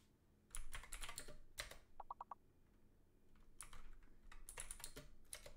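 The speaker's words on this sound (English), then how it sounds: "Just keep typing shit in there." Keys clatter on a computer keyboard in uneven bursts of fast typing with short pauses between, close and quiet, with no voices.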